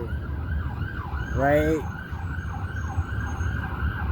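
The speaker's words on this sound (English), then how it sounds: "there goes the ambulance. I'm going to take this as confirmation. And you notice it's extra loud today, too," An ambulance siren passes outside, its wailing up-and-down tone running steadily throughout and swelling loudest around the middle as the vehicle goes by, with a brief spoken word over it.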